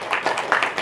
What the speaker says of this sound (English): let's give a round of applause for the team at CAIR